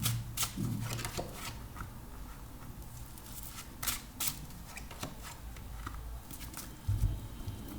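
Tarot cards are shuffled and drawn by hand, giving soft crisp riffles, flicks and slaps in scattered bursts, faint and close with no talk.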